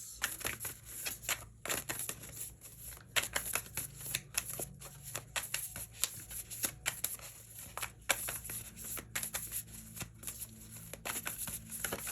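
Tarot cards are shuffled and pulled in a quiet room, giving soft, repeated riffling and flicking with crisp card slaps over a faint hum, close and fairly quiet.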